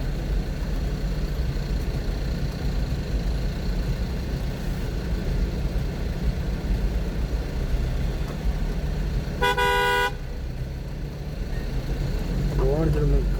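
Idling car engines rumble steadily nearby in an evening traffic jam on the streets of Malta while a voice talks, and a short car horn toots once in the middle.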